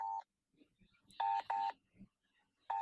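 Phone keypad dialing tones while calling a friend: short beeping tones, one brief tone, then two in quick succession and another at the end, with quiet shuffling between them.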